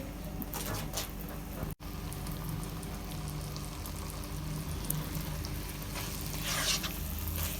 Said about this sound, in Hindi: अब इसमें उबाइल किए हुए चावल डाल देते हैं